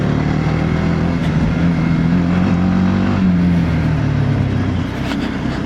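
Riding a TVS Apache RTX 300 adventure motorcycle: a loud, continuous engine note rises and dips slightly as the throttle shifts, over steady wind noise heard close up, no talking.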